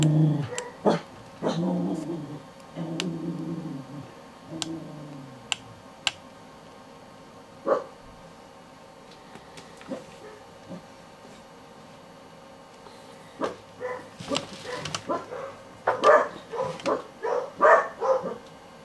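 Several dogs bark, yip and whimper in bursts, loud at the start and again near the end, with quieter gaps between them. The setting is a workspace where silicone molding is under way.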